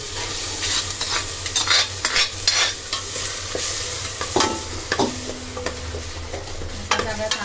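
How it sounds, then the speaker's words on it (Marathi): Ground masala paste for Malvani mutton sizzles and fries in a pan while being stirred, with scraping clinks and spoon taps over a continuous close frying hiss. "सगळा चांगला परतून घ्यायचा."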